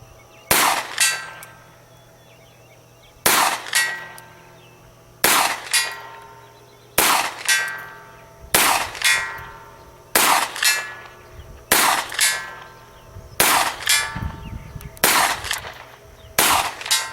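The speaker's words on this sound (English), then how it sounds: "got my Ruger Mark I, got my silhouette out there at 100 yards" A Ruger Mark I pistol fires ten evenly spaced shots at a steel silhouette 100 yards out, each sharp crack trailed by a ringing metallic clang from the target, with no talking.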